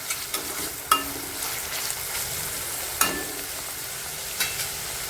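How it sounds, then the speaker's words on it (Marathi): Finely chopped tomatoes sautéing in oil for dhaba-style dudh shev bhaji, a soft, steady sizzle broken by a few sharp scrapes and clinks of the stirring spoon. "टोमॅटो आपल्याला चांगलं परतून घ्यायचं आहे तेलावरती"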